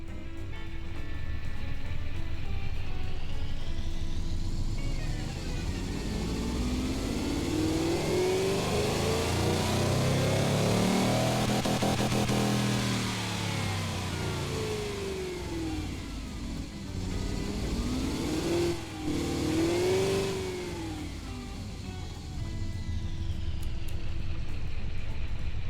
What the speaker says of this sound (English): So it's not the most quiet engine I've produced so far, because it's larger, has larger exhausts, but I think it's still fine.